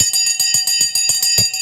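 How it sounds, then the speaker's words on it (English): A bell rings for the market open on a livestream, its rapid, rhythmic clanging strikes repeating about every fifth of a second, loud and close, with bright sustained ringing tones. "Let's ring the bell. The bell has just gone."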